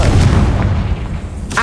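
A Confringo fire spell explodes in Hogwarts Legacy, a loud, close, booming blast that rumbles and decays over about a second, followed by a brief sharp burst.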